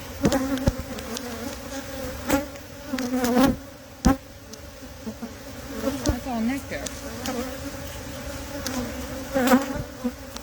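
Honey bees from a crowded hive buzz continuously and close, a thick swarming drone with bees repeatedly whizzing past, while a person talks briefly over it.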